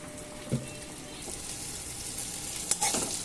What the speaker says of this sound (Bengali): এই লাউগুলো এবার ওর মধ্যে দিয়ে দিচ্ছি